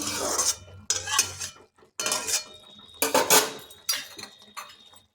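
A lid comes off a pot of half-cooked soya pulao rice, giving a few bursts of metallic clattering and clinking separated by short pauses, close and clear with no voices.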